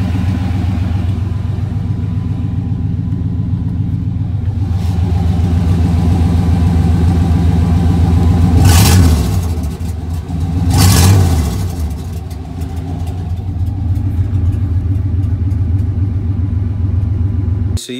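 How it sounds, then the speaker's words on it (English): A Chevy OBS pickup truck with a budget exhaust setup idles with a deep, steady rumble, then revs sharply twice, with two loud rising-and-falling bursts of throttle, before settling back to a throaty idle. "you've heard multiple different sounds and exhaust notes that come from whatever the heck we've been doing"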